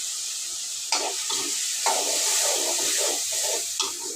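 Carrot curry with tomato and chili powder stirred in a pan over a low flame: a constant soft sizzling hiss broken by a few gentle scraping strokes of the spoon, close and alone.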